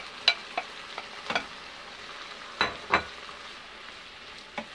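Shrimp and cabbage being stir-fried in a pan, with a few scattered scraping clatters from the spatula over a soft steady sizzle, close and moderately loud.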